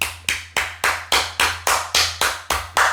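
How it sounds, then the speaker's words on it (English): Steady, evenly paced clapping for the UFC 306 event at Noche Sphere, about eleven crisp, close claps in a regular rhythm with no voices. "give it up to the UFC and give them a fucking round of"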